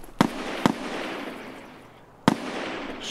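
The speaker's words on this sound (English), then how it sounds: "I'm getting shot by a scav." Gunfire in Escape From Tarkov from a hostile scav, with three sharp shots, two close together and then one after a pause, loud over a quiet ambient background and with no talking.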